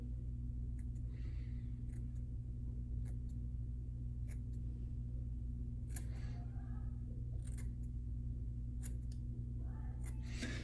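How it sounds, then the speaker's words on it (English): Crisp metallic snips of scissors cutting hair, scattered and irregular, close by over a low steady hum. "then I take the scissors or those clippers"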